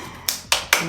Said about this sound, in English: Clap for yourself, baby.